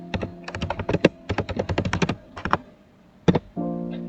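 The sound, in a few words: typing on computer keyboard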